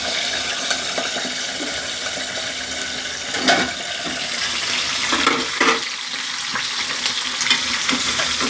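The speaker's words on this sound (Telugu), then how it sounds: "పచ్చిమిరపకాయలు వేయించాను." Green chillies fry in a pan with a steady, loud sizzle throughout, broken by a few scraping stirs and brief louder spits; no one talks.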